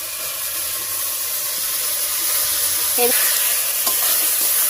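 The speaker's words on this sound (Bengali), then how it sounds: "ভালো করে মশলার সঙ্গে কষিয়ে নিতে হবে" Soaked rice sautéing with spice paste in oil for hilsa pulao in a village kitchen, a steady close sizzle with scraping stir strokes, brief clinks near the middle and end.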